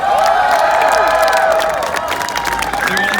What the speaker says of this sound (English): How about a round of applause for all our contestants?